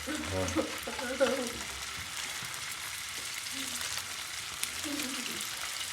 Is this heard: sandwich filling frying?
yes